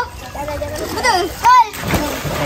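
A child splashes in a pool during a family day outing, with a few quick splashy bursts and one louder slap of water over steady children's voices and chatter.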